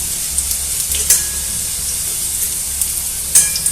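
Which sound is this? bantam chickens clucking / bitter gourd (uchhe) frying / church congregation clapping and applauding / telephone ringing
bitter gourd (uchhe) frying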